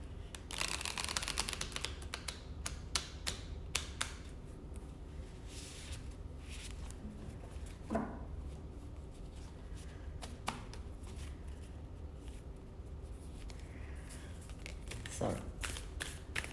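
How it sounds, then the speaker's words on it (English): A deck of cards is riffled and shuffled repeatedly, with crisp fluttering bursts and taps, close by, while a voice speaks intermittently. "So let's just shuffle once again and clear the deck."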